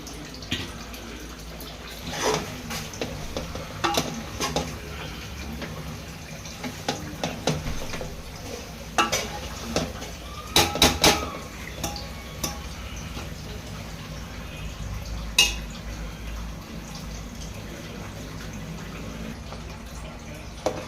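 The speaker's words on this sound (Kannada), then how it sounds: "ಕಾಯಿ, ಟೊಮೊಟೊ ಮತ್ತು ಸ್ಪೈಸೀಸ್ ಎಲ್ಲ ರುಬ್ಕೊಂಡಿದ್ದಂಥ ರುಬ್ಬಿರೋ ಮಸಾಲೆನ ಸಾಂಬಾರ್ದು ಹಾಕ್ತಾ ಇದ್ದಾರೆ" Ground coconut, tomato and spice masala poured into a pot of Mandya-style mutton sambar, wet splashing and dripping plops in irregular bursts, close and moderately loud over a low background hum.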